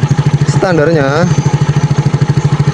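A Yamaha Mio Soul GT scooter engine idles nearby, its cold idle sounding as a loud, regular low thumping pulse that continues steadily while someone speaks briefly over it.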